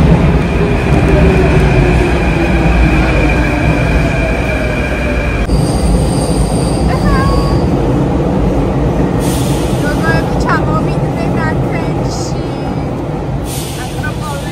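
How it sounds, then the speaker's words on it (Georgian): An Athens metro train rumbles loudly up close, with a steady rolling roar, high wheel squeals and hissing air brakes, while voices chatter in the background. "ესეც ათენის მეტრო."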